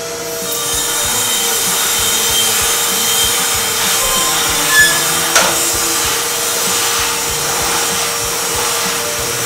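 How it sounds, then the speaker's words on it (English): Sand cleaning inside a scuba cylinder during hydrostatic testing and inspection: a loud, steady abrasive hiss and rough rumbling drone runs throughout, with a couple of brief knocks near the middle. "And next is sand cleaning."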